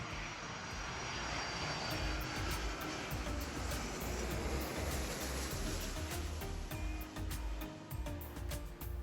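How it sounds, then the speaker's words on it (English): Sri Lankan Airlines airliner arriving from Karachi at Bandaranaike International Airport, a loud, sustained jet engine roar with a steady whine that fills the whole stretch, no voices. "This Sri Lankan Airlines flight number JUL152 is arriving from Karachi at 10:29 am on 3rd of July."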